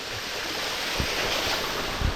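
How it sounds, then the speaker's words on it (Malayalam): A small waterfall at Vellarada runs with low flow, a steady broadband rush of falling water heard close and continuous with a few faint thumps. "ഇതാണ് വെള്ളച്ചാട്ടം"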